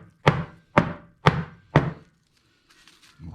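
Four heavy, evenly spaced thunks as mushroom and macadamia nut pate is bashed down in a bowl, each blow loud and close, followed by quieter faint clatter.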